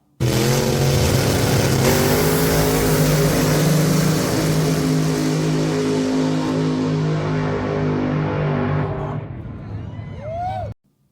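Nitro race cars at a drag-racing track, heard close and very loud: a sustained, harsh engine roar that holds for about nine seconds, then drops away abruptly as the car passes.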